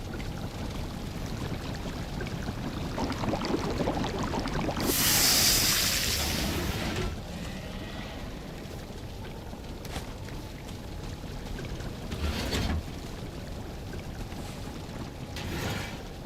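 A boat sails across open water in the Viking survival game Valheim, with a steady wash of waves and hull noise throughout and a louder surge of spray partway through.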